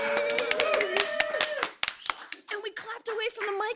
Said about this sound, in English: And we clapped away from the mic